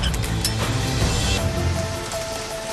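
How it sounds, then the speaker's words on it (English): Torrential rain pours steadily onto a surface during Audi car testing, a dense continuous hiss with a tonal hum running underneath and no voices. "Torrential rain."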